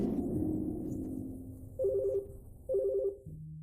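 Telephone ringing in two short electronic bursts, indoors, fairly clear against a quiet background, with a lower tone at the end.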